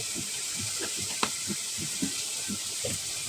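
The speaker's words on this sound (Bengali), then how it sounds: "একটা তেজপাতা আর 2 টুকরো দারুচিনি দিয়ে ভালোভাবে নেড়ে চেড়ে মিশিয়ে কষিয়ে নিব" Bay leaf and cinnamon pieces stirred in a hot pan for an egg and potato curry, giving a steady frying hiss with soft repeated scraping of the spoon.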